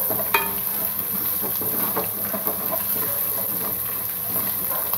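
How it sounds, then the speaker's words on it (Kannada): Ginger garlic paste and cashews fry in a pan with a steady close sizzle and occasional stirring scrapes, continuing without pause and with no talking. "ಶುಂಠಿ ಬೆಳ್ಳುಳ್ಳಿ ಪೇಸ್ಟ್ ಹಸಿ ವಾಸನೆ ಹೋಗೋ ತನಕ ನಾವು ಫ್ರೈ ಮಾಡಬೇಕು"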